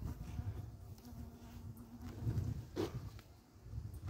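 Honey bees buzz continuously and close during a hive inspection in hot, dry weather, a soft, steady drone with occasional louder passes near the microphone.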